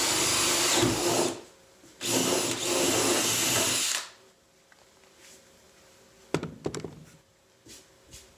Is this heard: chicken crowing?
no